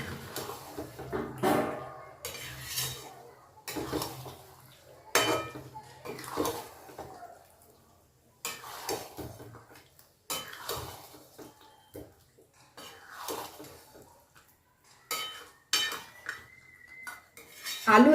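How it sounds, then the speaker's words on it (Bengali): Spoon clinking and scraping against a pan while potatoes are stirred with spices over medium heat, in irregular bursts of metallic knocks separated by short quiet gaps, close and clear, no talking. "এবার আলুগুলো মশলার সাথে ভালো করে কষে নেবো"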